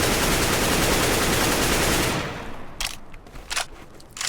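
A continuous, loud burst of automatic rifle fire in CS:GO spraying for about two seconds, then stopping abruptly, followed by a few softer clicks and clatters.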